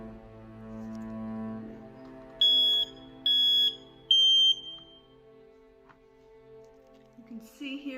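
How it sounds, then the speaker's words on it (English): An apartment smoke detector with a missing battery gives three short, piercing electronic beeps in quick succession, loud and close, over a steady low indoor hum. "Smoke detector's just missing a battery."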